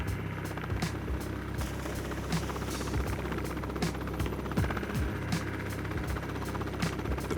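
Steady rotor thump of a rescue helicopter over water with a continuous engine drone, loud and close, with no talking.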